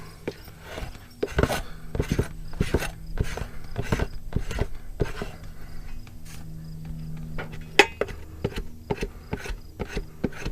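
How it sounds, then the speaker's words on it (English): A bike tire tube is scraped clean before patching, a series of close, dry rasping strokes in an uneven rhythm against a quiet background. "And you go scrape it"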